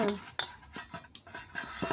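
A spoon mixes mustard oil in a bowl, giving close, irregular clinks and scrapes of metal against the dish with short pauses between strokes.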